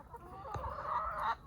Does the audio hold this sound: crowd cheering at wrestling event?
no